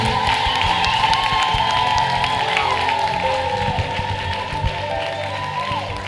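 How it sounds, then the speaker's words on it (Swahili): Congregation in a church service applauding to praise Jesus, a steady wash of clapping and cheering that fills the whole stretch under music and some voices. "Hayatosha makofi yangu kumtukuza Yesu."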